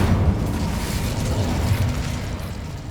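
Incendio fire spell cast in Hogwarts Legacy, a sustained rumbling whoosh of flame with heavy low-end roar, steady and loud for a few seconds before easing slightly.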